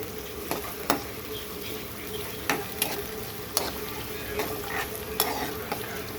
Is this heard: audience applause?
no